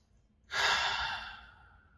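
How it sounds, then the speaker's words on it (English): One deep breath drawn in close and clear, a sudden breathy rush that swells and then slowly fades, with no talking. "Take a deep breath."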